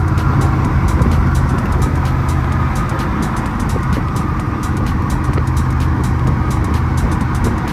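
A Toyota GR86 manual sports car engine drones steadily from inside the cabin, with road rumble and a constant low hum throughout, no voices.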